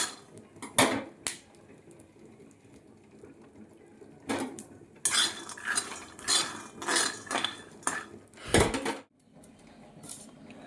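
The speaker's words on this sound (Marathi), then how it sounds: "आता मला ही सगळी मिरची कापून घ्यायची आहे." A knife chops green chilies finely on a board in bursts of quick, close taps and clatter, with pauses between the runs.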